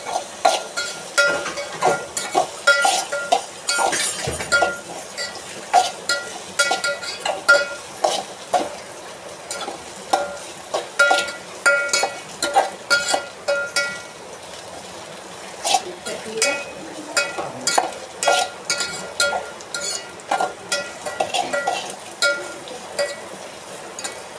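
Vegetables for a homemade vegetable soup cooking in a pan while being stirred, with steady soft sizzling and repeated scraping and clinking of a utensil against the pan, close and continuous, with some speech in the background.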